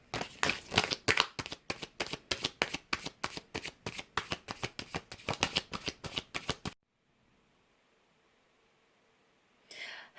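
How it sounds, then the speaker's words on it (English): Tarot cards are riffled and shuffled by hand in quick, crisp bursts for about seven seconds, close and clear, then cut to near silence before a brief final rustle. "It cut off while I was shuffling"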